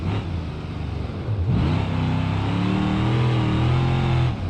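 Ibishu Arata car with a CVT accelerating in BeamNG.drive, a steady continuous engine drone rising smoothly in pitch with no gear shifts, loud and close throughout.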